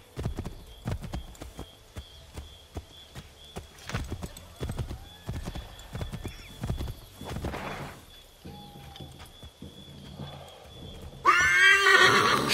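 A horse in the video game Assassin's Creed 3 gallops with quick, rhythmic hoof clip-clops, then lets out a loud, close neigh near the end.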